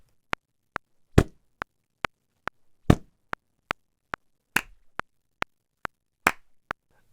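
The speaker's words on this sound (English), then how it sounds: "I'm going to layer this shipping box and a clap." A sampled snare built from a shipping box hit layered with a hand clap: crisp, dry, close hits on a steady beat, with heavier layered strikes every few beats between lighter ticks and no talk.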